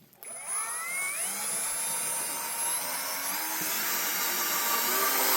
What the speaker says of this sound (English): I need to turn the drill down